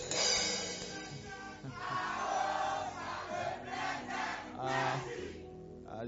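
A church congregation cheers and shouts in acclaim during a worship service, a loud, sustained crowd roar rising and falling in waves before fading at the end.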